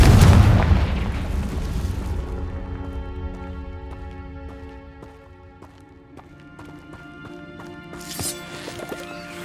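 Fiery spell blasts in Hogwarts Legacy, a loud burst up front decaying into ringing, rumbling tones, then a second sharp explosive crack near the end.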